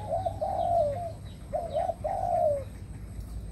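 A Đồng son dove coos in three short rounded phrases with brief pauses between them, fairly close and clear over a faint steady background hum, with no talking.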